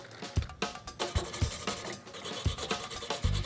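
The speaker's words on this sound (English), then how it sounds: "I'm going to grate in about 1 inch of ginger" Fresh ginger is rubbed across a grater in quick, uneven scraping strokes, close and quiet, with brief bumps between passes.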